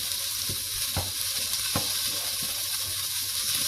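Thyme stirred into bacon and onion sizzling in a pan for a seafood chowder: a constant close frying hiss with a few soft scrapes and taps of a spoon, no voices.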